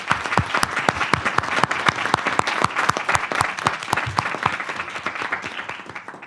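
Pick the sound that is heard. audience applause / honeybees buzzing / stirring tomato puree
audience applause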